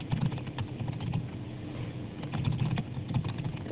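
Typing on a computer keyboard, a steady run of soft, close clicks and taps with irregular rhythm over a low background hum, continuing throughout.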